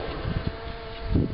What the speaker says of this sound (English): A few bees wondering what happened